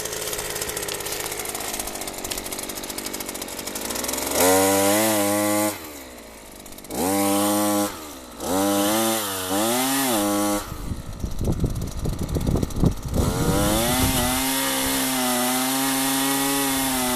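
A Husqvarna 327P5 gas pole saw cuts limbs from a pear tree. The two-stroke engine idles, then revs up in several loud, rising bursts as it bites into the wood, with brief drops between cuts.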